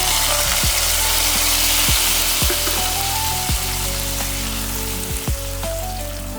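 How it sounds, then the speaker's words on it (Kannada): Cashews frying in a pan of hot oil for a pasta payasa dessert, giving a steady close sizzle with several sharp clinks and taps of a utensil against the pan, no talking. "ನೋಡಿ, ಇವಾಗ ಗೋಡಂಬಿ ಫ್ರೈ ಮಾಡಿ ಹಾಕ್ಕೊಡ್ತಾ ಇದ್ದೀನಿ."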